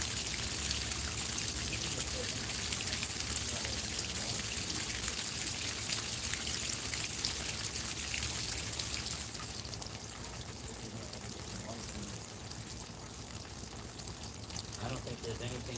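Water from a pump being tested pours and splashes out in a continuous rushing stream, steady and fairly loud all the way through, easing slightly toward the end.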